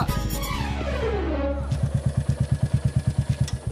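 A motorbike passes nearby, its engine pitch falling as it goes by, then settling into a rapid, even putter of engine pulses, fairly loud and alone.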